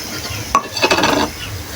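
A spoon scrapes and stirs chicken biryani spices with green chillies and bay leaves in a pan, a brief close burst of scraping over a soft sizzle.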